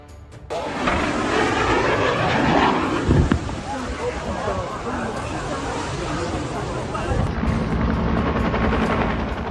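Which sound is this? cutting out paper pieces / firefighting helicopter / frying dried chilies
firefighting helicopter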